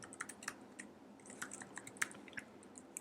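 Close, quiet clatter of a computer keyboard as code is typed, irregular clicks and taps in short runs with no talking.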